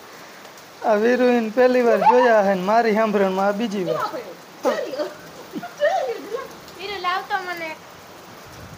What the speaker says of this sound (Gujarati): તો જો વરસાદ ચાલુ થઈ ગયો ને કરા પણ પડે હે